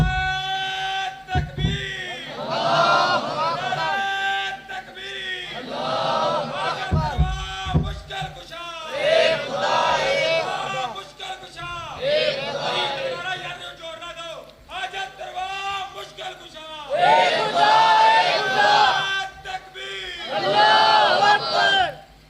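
A large crowd at a religious speech on Toheed o Shirk roars back in repeated rising chanted shouts, loud and massed, with a lone voice leading between the bursts.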